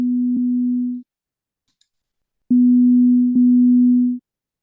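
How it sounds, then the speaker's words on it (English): Two plain sine tones from audio software, each a low steady hum: one lasts about a second, then after a pause a longer one plays with a slight click partway through. "Two sine waves, all right."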